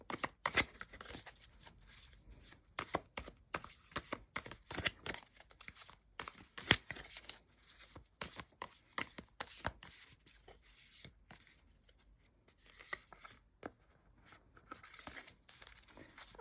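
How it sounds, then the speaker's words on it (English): Tarot cards are shuffled by hand in a rapid, crisp run of riffling flicks and slaps that stay close and clear, with short pauses between bursts and no voices. "let's shuffle 3 more times and then let's pick some cards"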